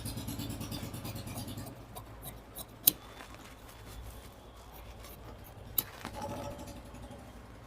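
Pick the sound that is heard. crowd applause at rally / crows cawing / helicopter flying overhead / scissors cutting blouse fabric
scissors cutting blouse fabric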